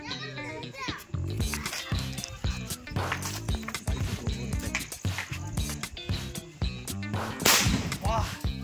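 Sharp Lakshmi firecracker bangs crack in quick, uneven succession during Diwali, close and loud, with children's voices chattering throughout.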